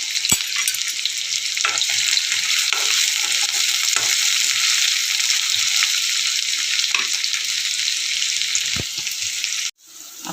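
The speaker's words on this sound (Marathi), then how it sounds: "मिरची टाकून घेऊया." Green chilies frying in hot oil for a cauliflower and pea vegetable dish, a steady close sizzle with occasional stirring clatter, cutting off abruptly near the end.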